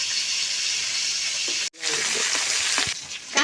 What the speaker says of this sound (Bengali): তেলটা গরম হয়ে গেছে, কাঁকড়াগুলো আমি ভেজে নেব